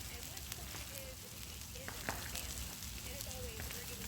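Potatoes cooking over a campfire beside porterhouse steaks give a faint, steady sizzle and crackle, with a soft knock as they are turned partway through.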